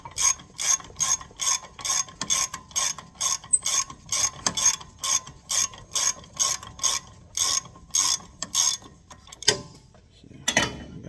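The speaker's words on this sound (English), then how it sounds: "Throw a ratchet on here." Hand ratchet turning a bolt on a 2015 Chevy Silverado 1500 lower ball joint, a steady run of about two dozen crisp metallic clicks in even rhythm, close and clear, ending with a short clunk and some shuffling.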